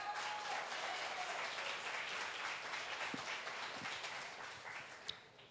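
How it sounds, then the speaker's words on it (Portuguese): A church congregation applauding during a sermon, a broad wash of clapping that slowly fades toward the end with a few isolated claps. "Aplauda ao Senhor, querido"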